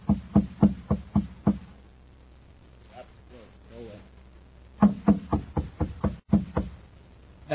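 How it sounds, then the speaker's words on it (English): Knocking on a door as a radio drama sound effect, a quick series of five sharp raps, a pause with faint sound in between, then another burst of loud knocks, close and dry. "He knocks at the door."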